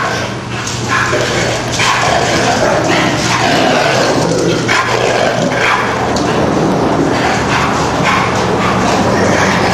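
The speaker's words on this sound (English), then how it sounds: "The Malinois is the one who's giving the raspy signals." Malinois dog at play with another dog and a puppy, making raspy growly vocal signals mixed with yips and barks, close and steady for several seconds over a constant background hum.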